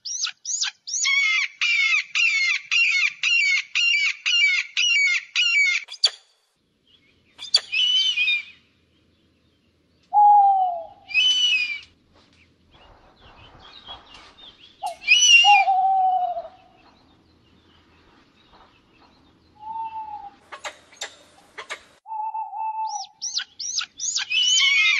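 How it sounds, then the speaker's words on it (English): Predatory bird calls ring out alone against silence: a rapid run of repeated high, sharp cries at the start, then scattered shrill screeches and lower whistled notes separated by quiet gaps, with another burst of quick cries at the end. "Let's go now to the sounds of predatory birds."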